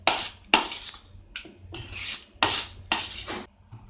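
A spoon scrapes and clinks against a bowl while syrup-soaked boondi is mixed for laddoo, giving several sharp, close strokes with short pauses between them.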